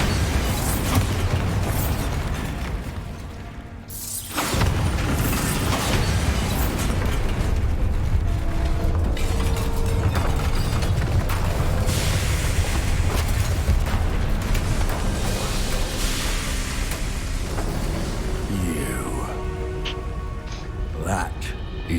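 Bombarda blasting spell from Hogwarts Legacy erupts in booming explosions within a loud, dense wall of combat noise that barely lets up, with a brief dip before the din returns and game voices scattered throughout.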